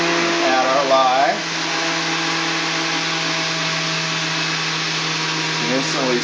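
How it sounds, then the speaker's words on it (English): A stick blender whirs steadily while mixing oil and lye into soap, a continuous close motor drone held throughout, with a voice talking over it at the start and again near the end. "Do not take your blender out of the oil"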